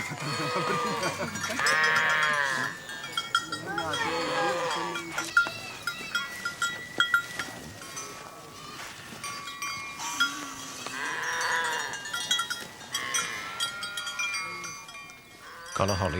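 A Surma tribe cattle herd in Ethiopia calls out with repeated bleats and lowing, mixed with clanking bells and shuffling, continuing throughout with scattered voices nearby.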